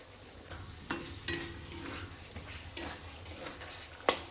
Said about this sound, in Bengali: আলু আর মশলাটা ভালো করে মিক্স করে নিলাম